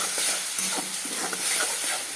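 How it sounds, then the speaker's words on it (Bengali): Spice masala with salt and turmeric fries and is stirred in a pan for an egg curry with cauliflower and potato. A steady, close sizzle runs throughout, broken by soft scraping stirs. "এখন এটাকে মশলাটাকে ভালো করে ভাজা ভাজা করবো"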